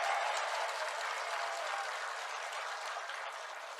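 An audience at a church sermon gathering claps together, a dense continuous roar of hands held at even strength and easing slightly toward the end, with no talking on top.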